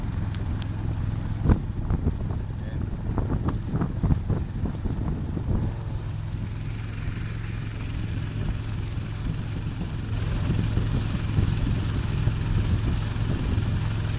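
A river cruise boat's engine drones steadily up close with heavy wind buffeting the microphone, the engine noise swelling louder near the end as the boat speeds up.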